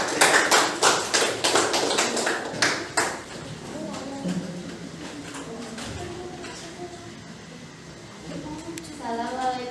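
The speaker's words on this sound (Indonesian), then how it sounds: "tepuk tangan untuk kelompok 1" A small classroom audience gives a short burst of scattered, crisp claps for group 1 during a teacher-training performance presentation, then the clapping fades under low murmuring voices.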